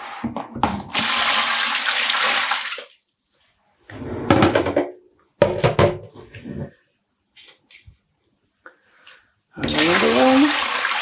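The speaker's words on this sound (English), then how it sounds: "And we're adding in the water" Water gushes from a jug or tap into a vessel to soak yarn before dyeing, several separate pours of a few seconds each with quiet gaps and small clinks between them.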